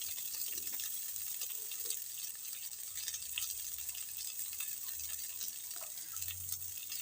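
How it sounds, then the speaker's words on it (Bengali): Ginger paste sautéing in a pan for a fish curry with cauliflower and potato, a soft continuous sizzle with occasional stirring scrapes, fairly quiet and with no voices. "এবার এর মধ্যে আমি একটু আদা বাটা দিয়ে দিলাম দিয়ে এটাকে খুব ভালো করে কষে নেব"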